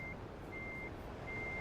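Truck reversing alarm in American Truck Simulator, three steady electronic beeps at an even spaced rhythm over a constant low engine rumble, no talking.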